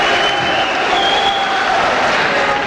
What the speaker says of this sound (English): Crowd on their feet in support of Till here.